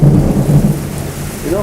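A thunderstorm with heavy rain: deep, continuous rumbling thunder rolls under a steady, dense hiss of rainfall, loud and close throughout with no voices.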